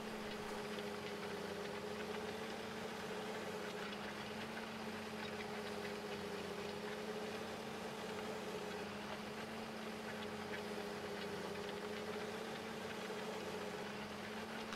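A tractor engine in Farming Simulator 15 drones steadily from inside the cab, a constant low hum with an even pitch and no talking.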